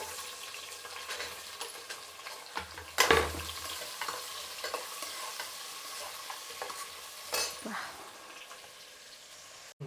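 Onions dropped into hot oil with whole garam masala sizzle in a pan, a sharp burst of frying followed by steady crackle and occasional stirring scrapes, with no talk over it.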